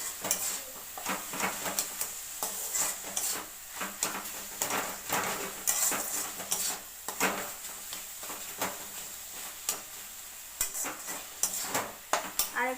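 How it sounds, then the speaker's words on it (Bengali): Red amaranth greens being stirred in a frying pan, the spatula scraping and clinking against the metal in a steady repeated rhythm over a soft sizzle, close and moderately loud, with no talking. "আমাদের জল শুকিয়ে গেছে, একটু ভালো করে নেড়ে নিই।"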